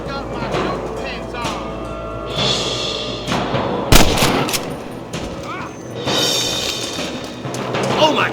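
Gunfire from the Red Dead Redemption western shootout, with repeated shots and loud bursts including a sharp blast near the middle, set against game ambience and occasional talk.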